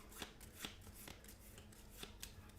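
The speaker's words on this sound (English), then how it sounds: "we're going to take all the cards that we put into it, and we're going to shuffle it up" A deck of game cards for a solo tabletop game is shuffled by hand, giving a steady papery riffle broken by several sharp snaps and flicks, close and fairly quiet, with no voices.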